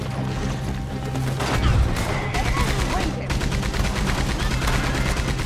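Rapid Gatling gun fire in Red Dead Redemption 2 sounds as dense, continuous bursts of gunfire with a heavy low thump early on, loud and sustained across the whole stretch.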